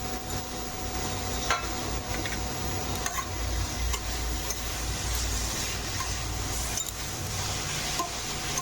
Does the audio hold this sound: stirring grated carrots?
yes